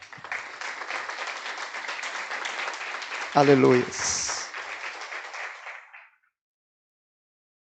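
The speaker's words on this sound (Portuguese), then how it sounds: "Dê um aplauso a Ele." Church congregation applauding in praise during a sermon, a steady wash of clapping for about six seconds with a brief sung or shouted exclamation in the middle, then fading out.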